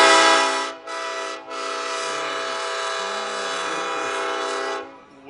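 Little Obie parade train car from the National Railroad Museum sounding its horn in a Christmas parade, a loud sustained chord broken twice by brief gaps, then cutting off near the end.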